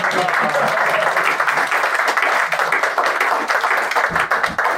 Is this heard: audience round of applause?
yes